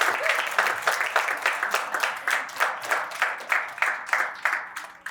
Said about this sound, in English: let's just give a round of applause to all of our parents.